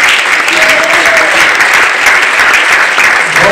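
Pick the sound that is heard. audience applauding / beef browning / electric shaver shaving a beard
audience applauding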